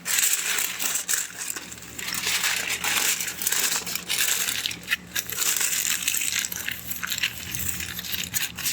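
Smoked baby back ribs being wrapped tightly in aluminium foil, giving steady close crinkling and crumpling that runs almost without a break, with a few brief pauses.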